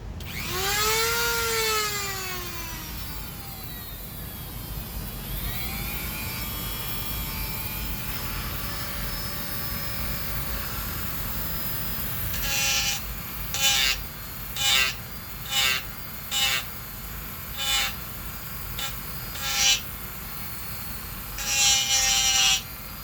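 A high-pitched rotary power tool polishes the trigger guard of an S&W M&P Shield pistol, whining steadily and sweeping in pitch as it spins up, then buzzing in short repeated bursts against the polymer.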